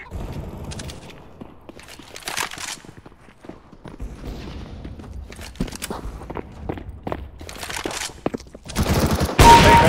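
Counter-Strike: Global Offensive deathmatch on the Dust map: scattered bursts of gunfire near and distant mixed with footsteps, building to a loud close volley at the end.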